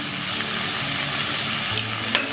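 Tomatoes and onions cook with a little salt in a pan, giving a steady close-up sizzle and hiss with soft stirring scrapes toward the end.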